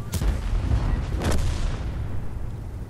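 A heavy cannon-like boom with a rumbling low end, followed by a second blast and a lingering dull rumble, like an M6E2A1 tank gun firing in World of Tanks.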